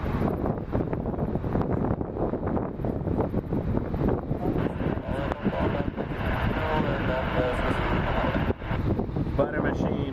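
An airliner heading for Geneva takes off from Montréal-Trudeau Airport with a loud, rough engine roar buffeted by wind on the microphone, steady for about ten seconds.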